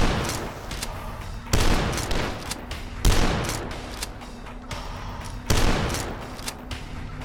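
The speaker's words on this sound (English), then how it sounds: "getting up into their faces, hitting them with the shotgun" The super shotgun in the video game Dusk fires heavy booming blasts about every one and a half seconds, each with a rattling tail, amid ongoing game noise and no talk.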